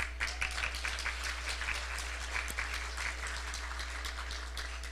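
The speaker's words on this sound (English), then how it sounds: "You can clap." Audience applause at an American Arab Chamber of Commerce event, a steady wash of clapping heard from a distance and fairly faint over a low constant hum, with no talking.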